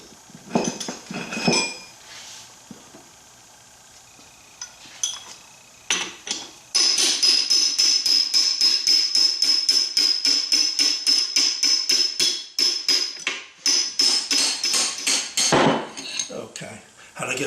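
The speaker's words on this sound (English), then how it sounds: "Just tap the shafts out." A hammer taps out the gear shafts of a Ford Model A transmission, giving a rapid string of sharp metallic clinks that run in a long, fast burst after a few scattered strikes, with no talk.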